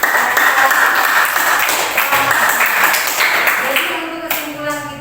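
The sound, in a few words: class doing rhythmic 'tepuk semangat' spirit clapping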